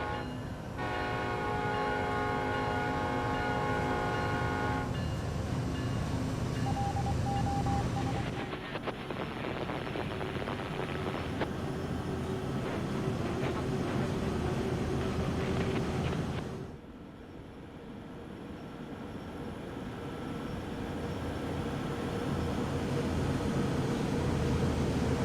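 A BNSF SD70ACe diesel locomotive pulls away on snowy Cajon Pass in Train Sim World 3, its horn blaring in long steady blasts over a deep, constant engine rumble that swells and drops as the train gets moving.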